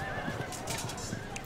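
Cavalry horses in Field of Glory II neigh and whinny over a busy battle bed, with clip-clopping hooves and a few sharp bursts close by.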